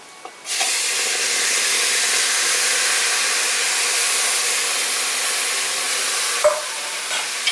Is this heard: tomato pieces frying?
yes